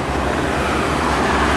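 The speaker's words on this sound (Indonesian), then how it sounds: "Ada dua trailer nih balapan." Two trailer trucks racing along a road make a loud, steady rumble of heavy engines and tyre roar, close by and continuous for a short moment.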